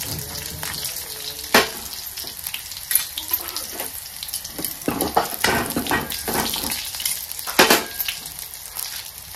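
Garlic and chili fry in hot oil in a pan for kadhi, giving a crackling sizzle broken by sharp bursts of stirring and spatter. Spoon scrapes come in uneven pulses against a constant hiss.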